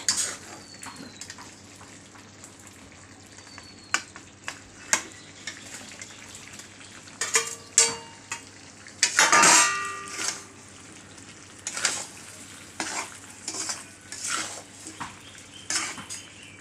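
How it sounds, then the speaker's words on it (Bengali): Raw mango pieces being stirred in boiling sugar syrup, a spoon clinking and scraping against a metal pot in irregular bursts over a faint bubbling background. "সুন্দর করে চিনিতে কিন্তু নাড়তে হবে, না নাড়লে কিন্তু লেগে যাওয়ার সম্ভাবনা থাকে"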